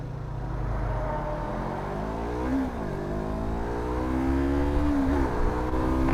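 A KTM RC 390 motorcycle engine revs at close range, its pitch climbing and dipping through several throttle blips before rising to a steady higher drone.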